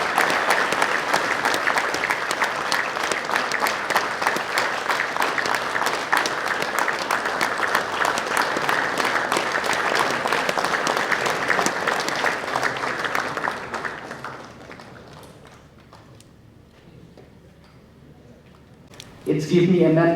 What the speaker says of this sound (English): Let's keep the applause and the encouragement going as loud as possible.